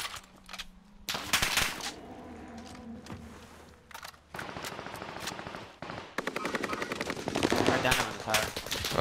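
Gunfire in Call of Duty: Modern Warfare, repeated bursts of rapid automatic weapon fire with sharp single shots, close and loud, broken by short pauses with faint voices in the background.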